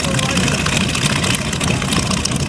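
Radial piston engines of a restored North American B-25 Mitchell bomber idling as it taxis at an airshow, a steady, loud, rumbling drone with no break across the short stretch.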